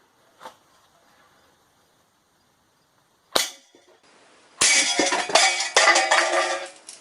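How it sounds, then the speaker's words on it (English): A cheap used BB air rifle fires at a steel can: a faint pop, then a sharp metallic crack, followed by a loud, sustained rattling noise, close to the listener with long quiet gaps between. "this is a BB shot by an actual BB gun, just a regular old cheap air rifle that I picked up for 10 bucks at a garage sale"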